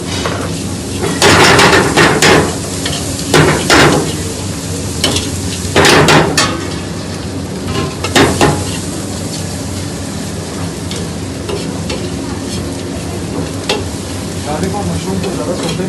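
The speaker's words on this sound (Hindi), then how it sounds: "गार्लिक और मशरूम को ज़्यादा सोते भी नहीं करना" Garlic and button mushrooms sautéing in oil for Thai garlic chicken, a continuous close sizzle broken by several loud bursts of stirring and scraping in the first half, then settling into steadier frying; faint speech may sit underneath.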